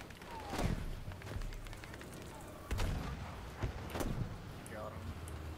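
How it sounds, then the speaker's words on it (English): Gunfire in the shooter game Battlefield V, a few distant sharp shots and heavier booms spaced over a steady noisy battlefield background, with a voice talking over it. "Who is shooting from so far?"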